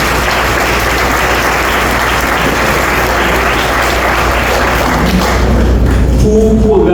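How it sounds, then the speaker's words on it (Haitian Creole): Dense, steady clapping fills the hall as an audience applauds the volunteers and council at a championship event, loud and sustained, with a few thuds and a hint of voices near the end. "Avant de tout nous applaudir bénévoles et le conseil"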